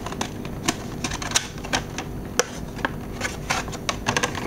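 A Sigma camera lens box is unpacked with quick papery crinkles and sharp plastic clicks. The handling noises come irregularly and sound close and fairly quiet against low background hiss.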